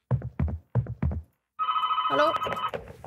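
Inside a video game, a telephone starts ringing with a sustained bright trill after a voice speaks a few short bursts, with a voice briefly overlapping the ring.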